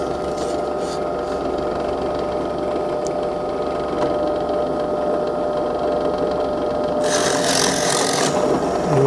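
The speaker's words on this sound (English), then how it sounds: "And we drill that side." Drill boring steadily through wood while making a homemade azimuth and semi-elevation antenna bracket, a continuous close grinding whir that holds the whole time and turns harsher and more rasping near the end as the bit breaks through.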